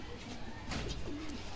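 Soft, low cooing of Gola pigeons blends into a steady background hum, with a brief rise in the middle and faint indistinct chatter.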